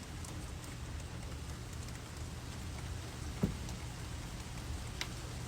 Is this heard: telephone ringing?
no